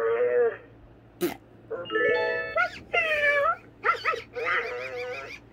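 A person imitates a cat with a series of short, high, wavering meow calls, close and clear, with brief pauses between them and one sharp click in the middle.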